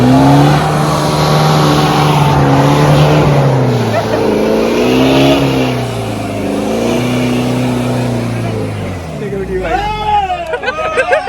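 An old Mahindra Thar engine revs hard while off-roading, loud and near, the pitch rising and falling under strain, with a crowd chattering excitedly over it.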